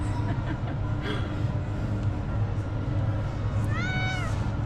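A single cat's meow, rising then falling, heard near the end over a constant low rumbling background with faint voices, at a zoo.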